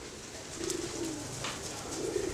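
Several pigeons give soft, rolling coos that come and go in short phrases, fairly close and moderately quiet against a constant low background.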